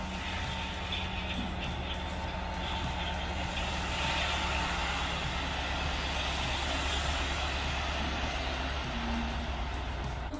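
Trucks delivering sand to a building site rumble with steady heavy engine noise, a continuous loud low drone with a faint beeping tone and mechanical clatter on top.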